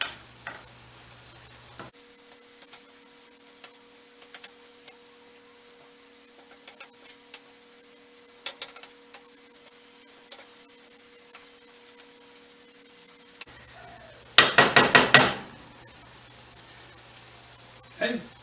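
Stir-fry noodles cooking in a pan give a faint, steady sizzle with scattered clicks of stirring, then a louder burst of clattering scrapes near the end.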